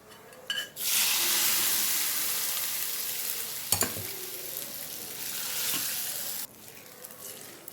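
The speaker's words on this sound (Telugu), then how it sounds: "తాలింపు రెడీ అయ్యింది కలిపేసుకుందాం" Hot oil tempering of dried red chillies, mustard seeds, urad dal, curry leaves, garlic and a pinch of asafoetida sizzles loudly in a pan, with a spoon stirring through it for several seconds before the hiss suddenly drops off; no talking.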